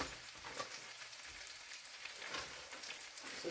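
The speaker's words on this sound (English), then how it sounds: "I'll just do the sausages first. I'm not even going to put grease in this." Sausages frying in an ungreased pan give off a faint, steady crackling sizzle with scattered small pops, quiet and close, with no talk over it.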